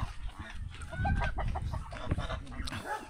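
Backyard chickens clucking close by in a flooded yard, a busy overlapping mix of clucks and calls over low rumbling background noise.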